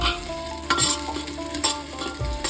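Spice masala with tomato and dried and green chillies frying lightly in a pan, a steady close sizzle with a few louder stirring scrapes and clatters spaced through it.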